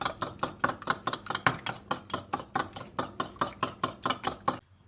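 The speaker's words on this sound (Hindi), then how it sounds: "तो अच्छी तरह फेंटना है ताकि मिक्स हो जाए।" Whole egg beaten briskly with a spoon in a bowl, a rapid even run of about twenty sharp clinking strokes, close and loud, stopping abruptly at the end.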